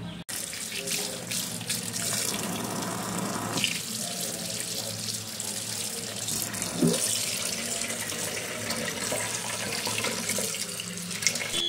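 Tap water pours steadily into a sink while cumin seeds are washed, a continuous close rushing stream with faint handling clatter and a brief louder knock partway through.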